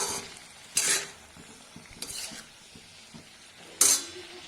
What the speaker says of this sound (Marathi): परत छान परतून घेऊया